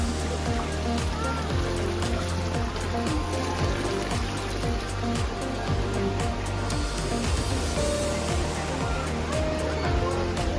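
Continuous rushing and splashing of water overflowing from a pool, close and fairly loud, with scattered drips and a faint hint of voices in the background.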